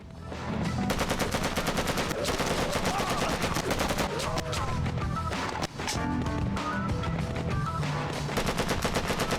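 Gunfire from the video game Made Man, with rapid bursts of automatic shots and repeated single cracks running densely through the whole stretch, loud and continuous with a brief break partway.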